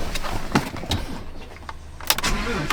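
A 700-horsepower Corvette C6 Z06 with a Borla exhaust cranks and fires up about two seconds in, settling into a steady idle after some scattered clicks and rustling.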